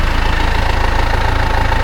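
Scraper tractor engine idling on a farm, a close, loud, even diesel chug with a rapid regular knocking pulse and no voices.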